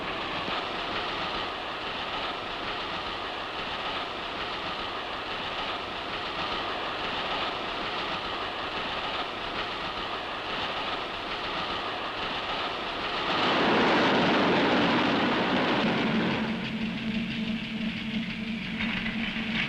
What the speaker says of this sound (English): multiple unit electric trains are clean, comfortable and speedy.